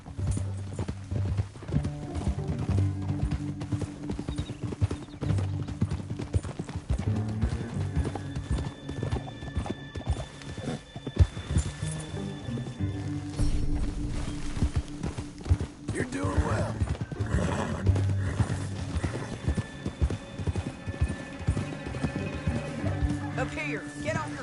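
Rapid hoofbeats of galloping horses pound steadily throughout in Red Dead Redemption 2, with a horse whinnying and music or voices layered underneath.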